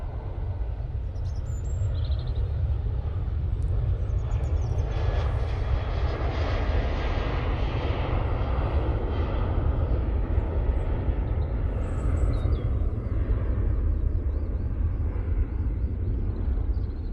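A Boeing 737 at Manchester Airport begins its takeoff roll, its engines giving a broad, steady roar held at one level throughout, with a few faint bird chirps above it.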